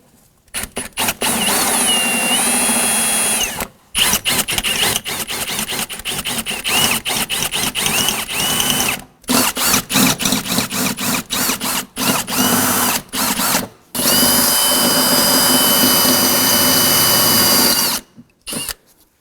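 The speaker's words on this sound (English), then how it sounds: "I want to go ahead and drill these out." A power drill bores out four plastic rivets on the front inner fender liner of a 2001-2009 Volvo S60, loud and close, in repeated bursts of whirring separated by short pauses.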